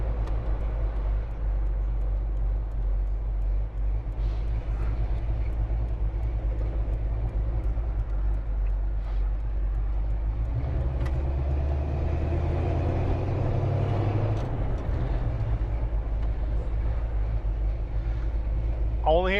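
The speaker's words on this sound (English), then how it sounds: "cruise around on Route 66 in a 1968 Pontiac GTO Convertible" A 1968 Pontiac GTO Convertible cruises along Route 66 near Kingman, Arizona, its low engine rumble and road noise steady throughout, deepening briefly midway, with faint voices and wind underneath.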